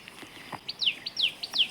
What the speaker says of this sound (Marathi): हे बघा आल्या चिमण्या